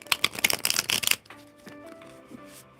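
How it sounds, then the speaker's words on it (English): A tarot card deck is shuffled briskly, a dense run of crisp riffling snaps close up, ending abruptly and followed by faint soft background tones. "I'm going to shuffle a hole in my deck"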